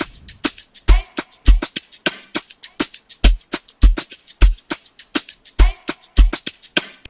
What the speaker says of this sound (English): And then the percussion loop also came in at some point.